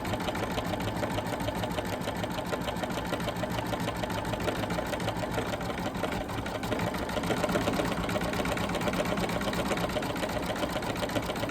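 A sewing machine runs steadily with a fast, even mechanical whir, close up and continuous, picking up slightly in pace toward the end.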